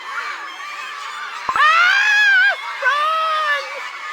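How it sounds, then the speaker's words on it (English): A high, wavering cartoonish scream rings out in the video game Cookie Run Kingdom, loud and close. It is followed by a second shorter cry over faint background game ambience. "Where did that scream come from?"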